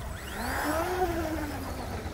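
A 1/8 scale Tiny Titan micro RC hydroplane boat with a 5210kv electric motor and Dynamite 30A ESC whines at low throttle, a thin rising and falling pitch sweeping over a steady background hiss.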